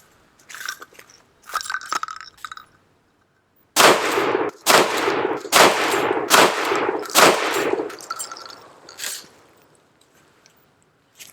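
A shotgun fires 1 ounce slugs at a range, about five loud booming shots in quick succession after a few quieter handling clacks, each blast close and sharp with a short echo tail, no talk.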